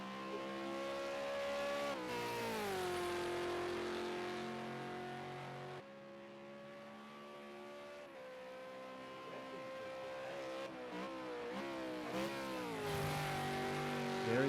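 HSV V8 Supercar on a hot lap at Bathurst, charging up Mountain Straight: a loud, close engine note rising through gears with repeated upshift dips and revving, continuous throughout without talk.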